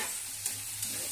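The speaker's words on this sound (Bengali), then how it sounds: "দেখো মশলাটা কষাচ্ছি, তেলটা ছেড়ে" Spice paste for chicken sautéing in oil in a home kitchen, a steady broadband sizzle with a couple of soft stirring knocks, close and alone.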